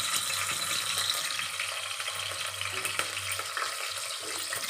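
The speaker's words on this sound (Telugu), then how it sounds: "ఇవి కొంచెం మిక్స్ చేసి కొంచెం దూరగా ఫ్రై అవ్వనివ్వాలి" Whole spices and green chillies frying in a pan of oil for mutton masala curry, a steady close sizzle with faint clinks and stirring throughout, no talk.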